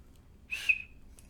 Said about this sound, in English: You know how a whistle works.